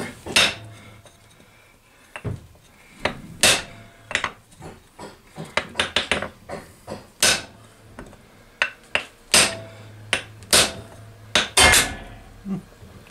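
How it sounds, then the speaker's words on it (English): Repeated metal hammer strikes on a 1966 Honda Benly CA95E motorcycle engine, sharp clanking blows coming in irregular bursts, loud and close in a quiet workshop. "we could go get a bigger hammer"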